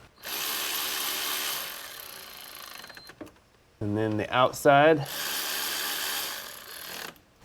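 A power tool whirs in two bursts, tightening bolts during a transmission solenoid replacement on a 2013-2019 Subaru Outback, with someone briefly speaking in the pause between them.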